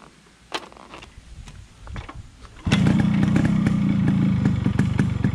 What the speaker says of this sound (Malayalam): നമ്മൾ ജസ്റ്റ് വണ്ടി ഒന്ന് സ്റ്റാർട്ട് ചെയ്യുക